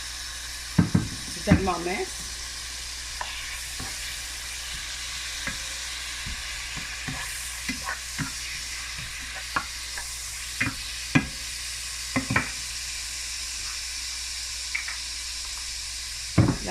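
Smoked herring sizzles steadily in a hot pan, a constant frying hiss broken by scattered sharp clicks and spatters of a utensil stirring, with a few brief French words spoken over it.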